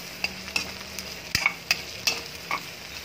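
Garlic and red onion sautéing in a pan for ginisang ampalaya, a soft sizzle under a series of sharp scraping stirs, about seven distinct strokes, close and clear with no talking.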